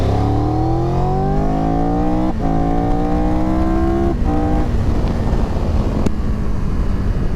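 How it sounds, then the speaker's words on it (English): A 2022 Triumph Tiger 1200 GT Pro motorcycle accelerates hard up an on-ramp in sport mode. Its engine note climbs steadily, drops briefly at three gear shifts, then climbs again. The sound is loud and close. "Let's do an on-ramp test in sport mode."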